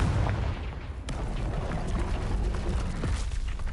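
A Confringo fire spell blasts in the Hogwarts Legacy video game, giving a deep booming explosion with a rumbling low end and a sharp burst near the one-second mark, set within continuous loud combat noise.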